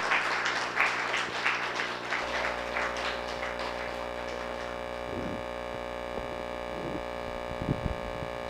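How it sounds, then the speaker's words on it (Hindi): Audience applause at a New Diet System seminar, a dense patter of clapping that thins out over a steady mains hum, with scattered voices near the end. "तो एनडीएस के लिए जोरदार तालियां होनी चाहिए।"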